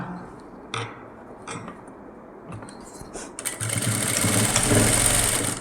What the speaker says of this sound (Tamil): நான் இங்கே தான் தையல் போட போகிறேன்